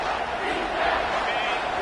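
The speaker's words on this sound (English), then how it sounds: "3rd down, and this crowd will blow out a vocal cord to help this defense." Football stadium crowd roaring on a third down, a dense, steady wall of yelling voices held at full loudness throughout with no pauses.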